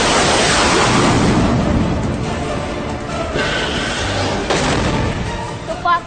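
A Pakistani army missile launch sounds as a loud, sustained roaring rush of broadband noise that slowly fades over several seconds.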